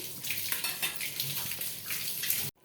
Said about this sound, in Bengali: এটার মধ্যে আরও জল দিব আমি।